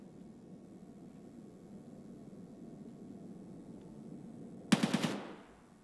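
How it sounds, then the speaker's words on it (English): A sharp cluster of gunshots bursts out near the end in Escape from Tarkov, four quick loud cracks in rapid succession after several seconds of low ambient rumble, then decaying echo. "are those gunshots below me?"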